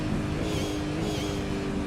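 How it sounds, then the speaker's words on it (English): A V8 race car in iRacing runs short of fuel, its engine droning in a dense, rough, sputtering roar that holds steady and loud without clear revving, with no voices. "you see the revs are dropping. It is choking."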